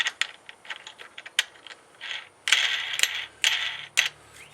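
A wing nut with a washer is tightened and adjusted on the leg of a homemade drafting table, giving close, irregular bursts of small metallic clicks and ratchet-like scraping with brief pauses between turns and no talking.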